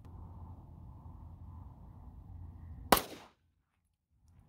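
A single sharp, loud pistol shot from a Smith & Wesson SD9VE firing 9mm Winchester Ranger Bonded 147 grain ammunition cracks out of a steady outdoor background hum, then decays quickly into near silence.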